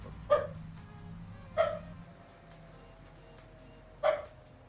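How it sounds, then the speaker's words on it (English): Dogs bark in a virtual farmyard in Farming Simulator 25, giving three short, fairly clear barks spaced irregularly over a low steady background hum. "Alright, dogs, calm down."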